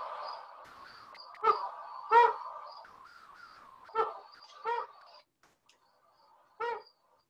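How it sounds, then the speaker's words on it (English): Several short, low hoots from a flammulated owl stand out in a sequence of owl calls, coming as spaced single notes over a faint background before quiet near the end. "Here's a flammulated owl."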